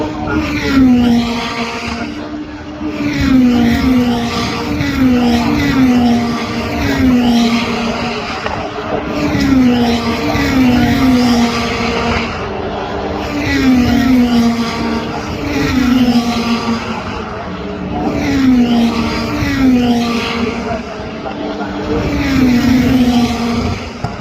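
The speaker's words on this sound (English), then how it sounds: "And that is a Donetta GT5 challenge car." A Donetta GT5 challenge race car engine at a GT race roars close and loud, climbing repeatedly in pitch through gear changes in a steady cycle of accelerating pulls and brief drops.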